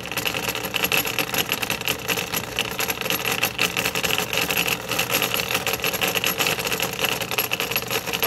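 A motor driving MDF gears in an endurance test running past 92 minutes, giving off a steady, even mechanical whir and rattle, close and continuous with no talk.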